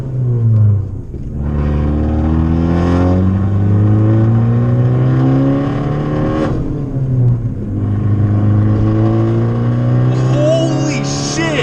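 A Fiat Abarth 695 with a Euro-Drive Tributo Ferrari tune, driven in non-sport mode, accelerates hard up close. Its loud engine note climbs in rising sweeps, broken by a couple of brief gear-change dips.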